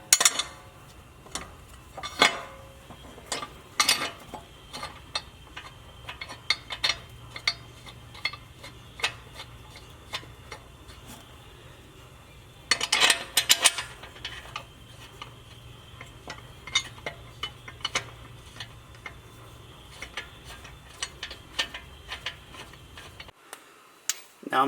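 A hand wrench reinstalls factory bolts on a Jeep Gladiator light mount bracket, making repeated close metallic ticks and clinks at an irregular pace, with a denser cluster of clicks partway through, over a quiet background.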